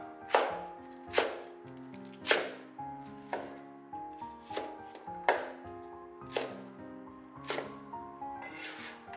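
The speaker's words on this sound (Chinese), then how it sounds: "洗干净的大白菜，给它改刀切成小段" A knife chops washed napa cabbage into short pieces on a board, with steady, evenly spaced crisp chops about once a second over soft background music.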